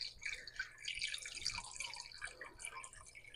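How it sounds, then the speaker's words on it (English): RO water trickling slowly into a small no-filter nano aquarium, a faint, steady patter of drips and splashes close by, with no talk. "just add water back into the tank slowly as to not disturb the substrate too much"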